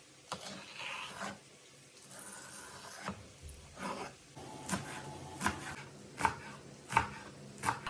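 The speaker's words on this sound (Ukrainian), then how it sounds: "Ріжу їх вздовж дрібненько, нарізаю" Knife chopping green onion lengthwise into fine pieces on a board, a series of crisp taps that speed into a steady rhythm, close by with no talking.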